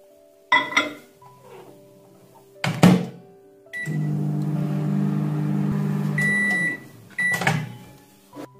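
A steady microwave oven hum runs for about three seconds between clattering door and handling noises, with a beep near the end.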